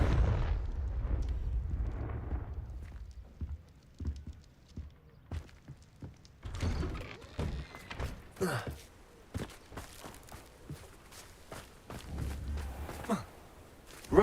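Confringo spell blasts in the video game Hogwarts Legacy, a deep rumbling explosion at the start followed by scattered thuds, cracks and impacts, with intermittent bursts of further blasts.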